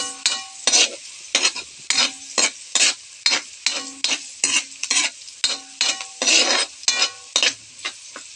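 Chicken frying in a pan, stirred briskly with a utensil, giving a rapid, regular series of loud, close scraping strokes over a constant sizzle.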